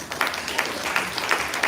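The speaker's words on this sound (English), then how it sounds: "Round of applause, ladies and gentlemen." A round of applause from a small group, a brief steady patter of clapping of moderate loudness, with no speech over it.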